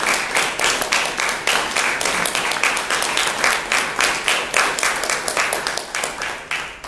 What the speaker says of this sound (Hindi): तो इन तीनों के लिए भी एक बार आप जोरदार तालियों से आप धन्यवाद करें